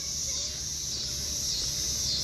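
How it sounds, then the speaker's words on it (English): Steady, high insect drone of locusts or cicadas outdoors at a zoo, a continuous shimmering buzz that holds evenly throughout. "You hear in the background, hear them locusts?"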